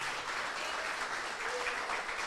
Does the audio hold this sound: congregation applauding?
yes